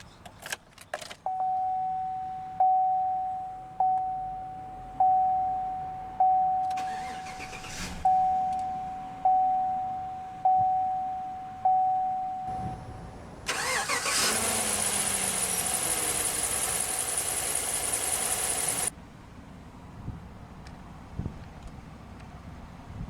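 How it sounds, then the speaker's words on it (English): A 2015 GMC Sierra 1500 pickup truck: a rhythmic chime repeats for several seconds, then the engine cranks and catches with a loud surge that settles into a smooth, steady idle heard close from inside the cab. "let's go ahead and start the engine"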